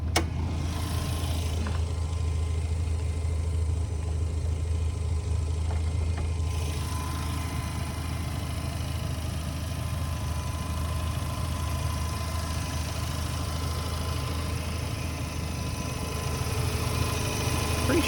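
A 1994 Mazda FD RX-7 idles with its hood open, heard from the front of the car as a steady, even engine hum and vibration that holds unchanged throughout, with no one talking.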